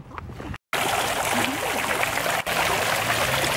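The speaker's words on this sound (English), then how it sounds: "Are you checking out the fountain?" Water from an outdoor fountain splashes and trickles steadily on a sunny day, a continuous close wash of falling water with a short break near the start.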